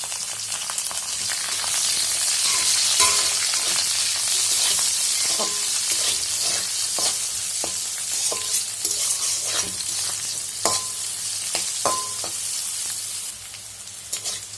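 Green chillies frying in a pan, a steady loud sizzle of oil with scraping stirs and a few sharp spatula clicks against the pan throughout.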